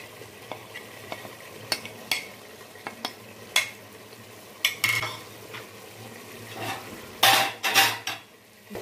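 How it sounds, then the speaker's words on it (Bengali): Ground cumin, coriander and Kashmiri chilli sautéed in a pan, with a spoon scraping and clanking against the metal in irregular strokes over a soft, steady sizzle, and no talking. "মশলাটাকে আবার এর মধ্যে কষিয়ে নিলাম"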